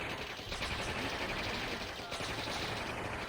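Tanks in the real-time strategy game Warzone 2100 keep up continuous, dense gunfire and explosions, a loud unbroken barrage of overlapping shots with no clear pauses.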